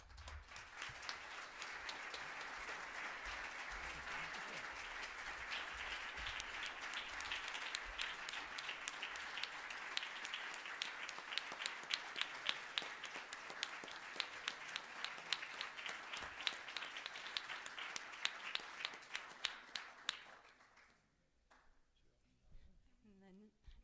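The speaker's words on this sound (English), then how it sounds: "give you guys a round of applause for being our mentors" A class and audience at a fall plenary session give a long round of applause, dense sustained clapping that swells and holds for about twenty seconds before thinning out to a few scattered claps and quiet.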